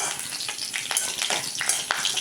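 Coconut oil tempering sizzles steadily in a pan for fish curry, a continuous bright crackle with scattered sharper pops, close and fairly loud with no talk.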